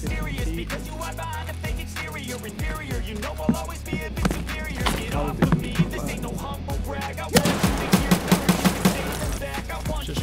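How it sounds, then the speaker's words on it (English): Rapid video game gunfire, with sharp repeated shots and clattering bursts over a thumping music bed, growing louder and denser toward the end. "I gotta shoot this guy."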